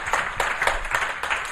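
An audience at a film festival talk applauds in quick, fairly even bursts of clapping that carry on steadily, close and without any voices over it.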